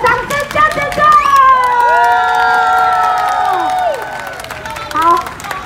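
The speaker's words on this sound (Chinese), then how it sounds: "给小朋友最热烈的掌声加尖叫" Children's school performance at a kindergarten, with a crowd cheering, screaming and clapping loudly for several seconds, high excited shouts rising over steady applause, then tapering off and flaring briefly again near the end.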